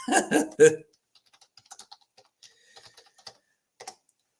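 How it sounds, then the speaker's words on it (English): Soft, irregular keyboard taps clicking away at close range after a brief burst of talking at the start. "you guys are going to hear me typing."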